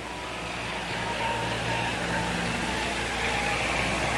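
Sportsman race cars lapping Capital Speedway in 1985 produce a steady, loud engine roar with low harmonic drones, the field running continuously without a break.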